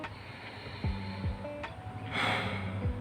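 Slow, deliberate breathing during a meditation demonstration: quiet nasal inhales and exhales, close to the mic, over a faint background hum.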